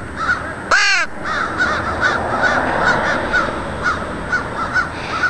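Two crows caw outdoors: one loud, harsh, close caw, then a run of fainter, evenly spaced caws over steady background noise.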